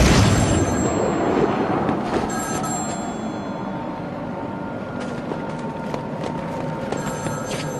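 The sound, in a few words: telephone ringing in Batman Arkham City video game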